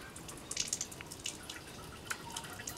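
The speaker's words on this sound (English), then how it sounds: "Bathroom sink right here. One great way of saving water is this. This is the cold water, full blast." Cold water running full blast from a bathroom sink faucet, a steady hiss of flow with scattered drips and splashes close by, no voices.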